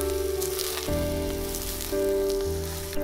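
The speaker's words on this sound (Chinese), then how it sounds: "炒出香味了，就把猪皮放进来炒。" Pork skin stir-fries with oil, garlic slices and shiitake mushrooms in a clay pot, giving a loud, steady close sizzle that shifts slightly as the pieces are moved.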